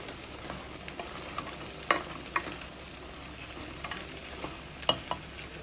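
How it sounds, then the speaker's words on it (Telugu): Vegetable pieces tossed with salt, chili and turmeric for sambar are stirred in a pot: soft scraping with occasional sharp clinks over a faint, steady background sizzle, with no talking. "ఈ ముక్కల్ని ఒకసారి ఇలా కలుపుకుని"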